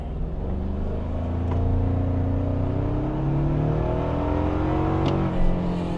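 A 2025 Toyota 4Runner TRD Sport's turbocharged engine pulls steadily under acceleration, a sustained, loud drone rising slowly in pitch as it gathers speed with some turbo lag, heard from inside the cabin with no talk.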